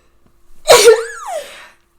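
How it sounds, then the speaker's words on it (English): A single loud, close sneeze, a sharp burst trailing off into a sighing tail, with nothing else around it. "I'm gonna sneeze."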